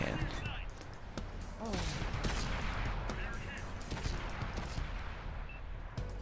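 Rapid gunfire from shooting an enemy in the tank game World of Tanks, dense volleys of shots across the whole span under battle noise, with a brief voice exclamation.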